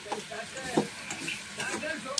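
Potato, eggplant and dry fish pieces are stirred in a hot pan, with a soft, faint sizzle of frying under occasional light scraping of the spoon against the pan.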